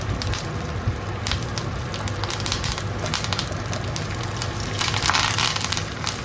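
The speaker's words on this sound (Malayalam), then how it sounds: "ഈ സമയത്ത് കുറച്ച് വേപ്പില ഇട്ട് കൊടുത്ത് തീ തന്നെ" Curry leaves crackling and sputtering in hot oil, with sharp popping bursts over a steady sizzle, close up and without talking.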